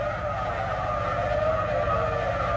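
A VW Saveiro Cross pickup brakes hard, its tires skidding in one sustained, loud screech with a steady high whine over low engine rumble, close by and with no voices.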